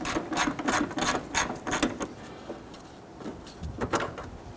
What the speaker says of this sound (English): Now I'm going to use my 10mm socket and ratchet.